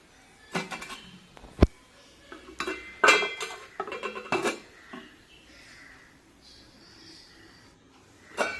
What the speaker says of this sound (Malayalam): എല്ലാം കൂടെ ഒന്ന് മിക്സ് ചെയ്ത ശേഷം സ്റ്റൗ കത്തിച്ച് അടുപ്പിൽ വയ്ക്കാം.